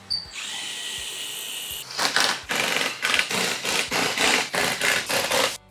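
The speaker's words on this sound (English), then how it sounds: "After it's cut to length, pre-drill everything." A power drill pre-drills screw holes in a hardwood door post for a pocket door frame: a brief rising whine, then about eight short, close, evenly paced drilling bursts, with no talk.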